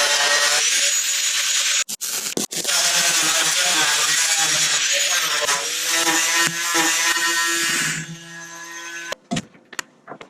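Saw cutting metal during a school bus to tiny house conversion: a loud, close, continuous rasping whine that runs for about eight seconds, then stops, followed by a few sharp knocks.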